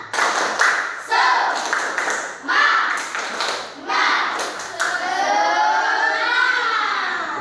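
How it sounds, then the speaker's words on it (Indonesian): A classroom of students joins in a rhythmic Indonesian spirit clap led by their teacher, with bursts of patterned claps and voices chanting along, then a teacher's voice speaking over the fading noise. "Tepuk semangat."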